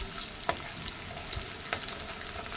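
Garlic frying in oil in a kadai, a steady close sizzle with a couple of sharp scraping stirs, no voices.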